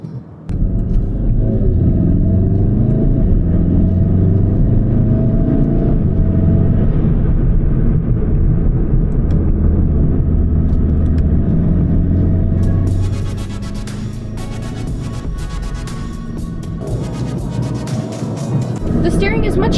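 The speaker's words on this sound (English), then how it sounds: "For acceleration in comparison to the GTI, this is much quicker, especially since it's automatic and mine's a manual." Volkswagen Golf R with an automatic gearbox accelerating, a loud, steady low engine rumble rising throughout, with road and wind noise building toward the end and no talking.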